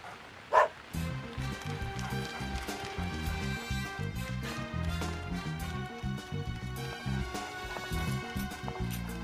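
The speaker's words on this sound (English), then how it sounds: "Oh, it was a dog." A dog barks and yips in the game Deadly Premonition, a short sharp burst right at the start, then gives way to a continuous funky music track with saxophone.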